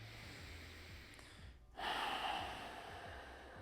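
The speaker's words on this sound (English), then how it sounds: "maybe inhale some more and then just breathe normal" A deep inhale taken during a guided breathing exercise in an archery class: a soft, breathy rush of air that briefly cuts out, then swells louder and fades slowly, with no talking.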